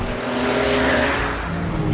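An Audi TT Mk2 3.2 races a BMW Z4 3.0 from a standing start, engines roaring hard under acceleration in a loud, continuous rising drone with a faint tire squeal.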